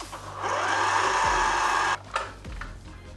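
An electric mixer works bread dough after a cup of flour is added, with a steady motor whir for about a second and a half that then cuts out, followed by a couple of soft knocks.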